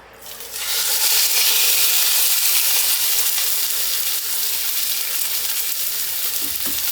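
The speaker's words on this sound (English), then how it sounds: "So we're going to brown all 4 sides of that." Beef browns in a hot pan with a loud, steady, crackling sizzle that swells quickly and holds bright and close, with faint scraping near the end.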